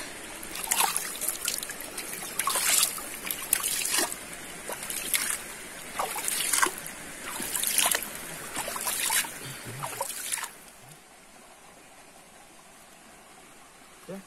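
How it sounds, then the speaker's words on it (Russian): A clear mountain river flows in Crimea's Grand Canyon, making a steady close trickle and rush with bursts of splashing, which then drops to a quieter, even flow. "Горная река."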